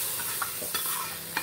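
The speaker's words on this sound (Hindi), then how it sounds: "मैंने इसको दाल को लगाना है जी तड़का" A tempering (tadka) for dal sizzles faintly and steadily in the pan, a continuous hiss broken by a few soft clicks and pops.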